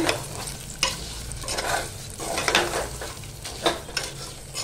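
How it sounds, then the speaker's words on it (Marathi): Green peas with masala are sautéed in a pan, repeated scraping stirs over a steady sizzle, loud and close, with no voices. "आता मटार सुद्धा परतून झालेले आहेत"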